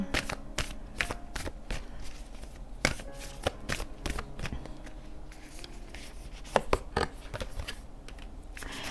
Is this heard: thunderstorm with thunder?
no